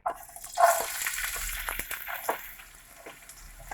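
Onions and garlic dropped into hot oil in a pan for fried rice set off a sudden hissing sizzle that stays close and fairly loud, then slowly settles into a softer crackle.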